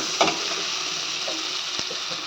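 Food fries in hot oil with a constant bright sizzle, plus a couple of sharp clinks from stirring and no voices.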